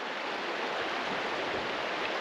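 The Kenai River in Alaska flowing near a confluence around a small island, a steady, even rush of moving water heard alone without talking, constant and moderately faint.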